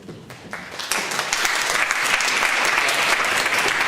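Lecture audience at Oxford University applauding a neuroscience professor, clapping that starts sparse and quickly swells into steady, full applause.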